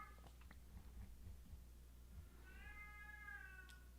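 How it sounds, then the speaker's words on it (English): An elderly female cat meows in a drawn-out, wailing cry late in the clip, preceded by softer mews, heard faintly at a distance over a steady low hum. "my little old lady cat's screaming"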